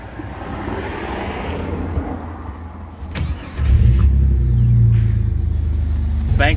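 A Jeep Grand Cherokee ZJ with a full front-to-back Magnaflow exhaust cranks briefly, then fires up into a loud, deep rumbling idle that holds steady close by.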